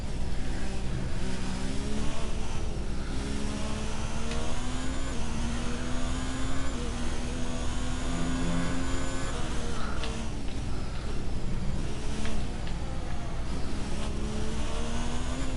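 A Formula 1 car engine in the F1 2019 racing game at the French circuit screams at high revs through a lap, pitch climbing through each gear and dropping on upshifts and braking, loud and continuous with no talk.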